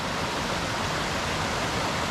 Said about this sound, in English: There's at least a couple of waterfalls coming down through that slot.